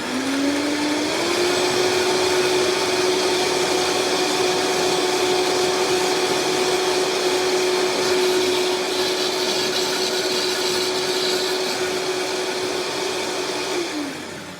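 A Vitamix blender whirs through a red, white and blue summer shake, a loud steady roar that climbs in pitch as it spins up, holds for over ten seconds, then cuts off near the end.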